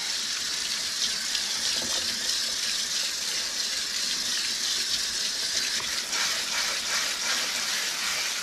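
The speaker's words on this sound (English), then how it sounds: "I'm gonna run some cold water in there and put some ice in that." Cold water runs steadily from a kitchen tap over cooked broccoli in a sink, a constant close, loud rushing splash with no talking.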